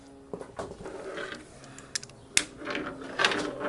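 A ratchet socket wrench loosens a nut on a Big Twin Harley Davidson, close, sparse clicking pawl strokes with a sharp metallic clank midway and a brief burst of ratcheting at the end.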